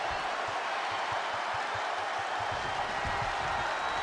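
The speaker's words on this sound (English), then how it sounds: "Just listen to this crowd." A virtual wrestling arena crowd in WWE 2K26 roars and cheers in a steady, dense wash of noise that fills the whole stretch, loud and constant with no individual voices standing out.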